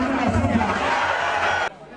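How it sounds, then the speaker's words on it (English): A massive crowd at a political rally for a popular Member of Parliament cheers and shouts loudly at close range, a dense roar that cuts off abruptly near the end, with a voice talking over it. "The massive crowd cheered as he came with a message of hope for"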